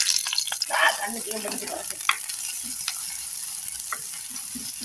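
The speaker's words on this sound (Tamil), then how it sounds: "சின்ன வெங்காயம் வெட்டி எடுத்துருக்கோம். அதோடு பச்சை மிளகாயும் சின்னதாக வெட்டி எடுத்துருக்கோம். இப்போ போட போகிறோம்." Chopped shallots and small-cut green chillies hitting hot oil in a pan, a bright sizzle and spatter that is loudest early on and settles into a steady frying crackle with occasional stirring clinks.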